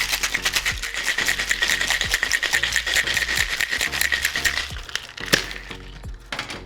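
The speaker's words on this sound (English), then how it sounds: "Now, we add ice and we shake for a good 8 or 10 seconds." Ice rattles hard inside a cocktail shaker as a margarita is shaken, a fast, steady back-and-forth clatter of cubes hitting metal that runs loud and close for several seconds before easing off.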